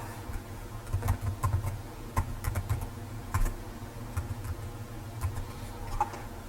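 Rapid keyboard typing of an email ID and password on a login page, irregular clicky keystrokes in quick bursts with short pauses, close and fairly quiet, no talking.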